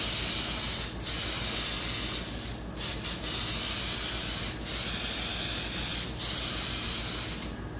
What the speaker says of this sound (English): just drying the paint with air only.